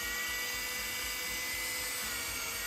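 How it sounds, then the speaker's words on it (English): A small drill bit bores a 2mm hole into a LEGO brick, a steady high-pitched whine with faint fluttering, held evenly for a few seconds at close range. "So I'll try to drill this now, which is not very easy with the camera."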